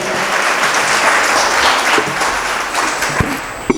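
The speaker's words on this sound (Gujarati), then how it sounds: "પૂજ્યપાદ ગુરુશ્રીને એકવાર જોરદાર તાળીઓનાથથી આપણે વધાવી લઈએ" Loud, sustained applause from a large audience at a satsang welcoming the guru, dense steady clapping that fills the whole stretch and thins slightly at the end.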